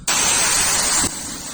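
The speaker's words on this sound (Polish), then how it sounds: "możemy sobie wyjść tak, by nie kurzyć w środku i przykładowo wydmuchać filtr od odkurzacza" A Dedra DED7174 cordless vacuum cleaner blows out its filter outdoors, a loud, steady hiss of rushing air close up for about a second, then dropping to a softer continuous whoosh.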